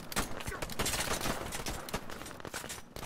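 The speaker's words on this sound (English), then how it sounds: "Oh, wow, those gunshots are loud." Rapid bursts of loud gunfire from a video game, dense overlapping shots in quick succession with brief gaps between volleys.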